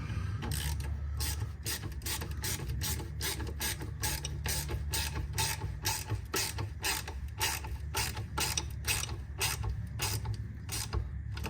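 A ratchet tightens a part on a Mk2 Golf GTI 16V, clicking rapidly and evenly in a continuous close run.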